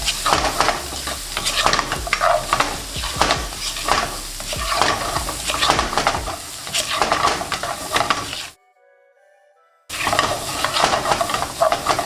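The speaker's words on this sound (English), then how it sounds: "Now give that a really good mix and cook on high heat for a few seconds." Seasoned chips tossed with salt, pepper and MSG are stir-fried over high heat, a loud close sizzle with rhythmic scraping and stirring, cut by a brief silent gap before the frying resumes.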